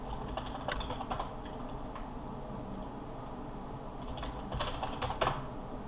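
Quiet bursts of typing on a computer keyboard, with rapid clustered keystrokes near the start and end and a pause between them, heard alone against a soft background hiss.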